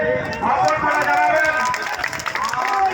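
A crowd at a Ram temple opening event for Ram Navami gives brief, dense, sustained clapping. Voices and a loud speaker talking are mixed through it.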